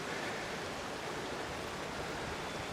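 Wilderness creek water rushing steadily, a dense continuous broadband roar close to the microphone with no pauses or voices.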